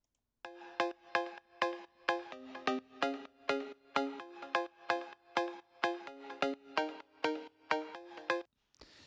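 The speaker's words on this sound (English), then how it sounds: "The mid synth is a Plucky Layer that mainly exists in the high mids right up here." A plucky mid-register synth layer from an electronic music track plays a fast, regular run of sharp, short-decaying notes, clean and isolated, with about twenty evenly spaced plucks.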